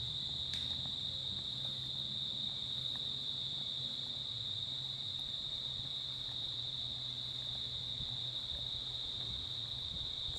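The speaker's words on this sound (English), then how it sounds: "You can hear the cicadas." Steady, high cicada buzzing drones on without pause in Tamborine National Park's forest, with faint low background noise underneath.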